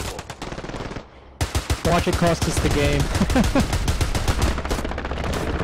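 Rapid machine-gun bursts and rifle shots crackle close and loud in the World War II shooter Hell Let Loose during a match on Utah Beach, firing in dense, nearly continuous volleys while a player speaks briefly.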